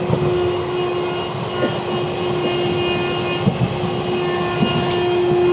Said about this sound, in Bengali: এই ট্রেনটা রোজ কিন্তু বর্ধমান হয়ে যায়